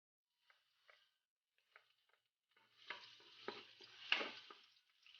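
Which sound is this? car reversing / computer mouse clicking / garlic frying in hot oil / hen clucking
garlic frying in hot oil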